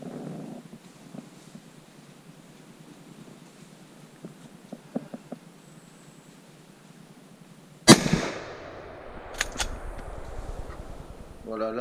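A hunting rifle fires once at a wild boar during a driven hunt in woodland, the bullet clipping a sapling; the single sharp, loud crack cuts through near-silence and is followed by lingering rustling noise.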